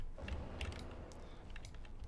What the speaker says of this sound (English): you can toggle this door on and off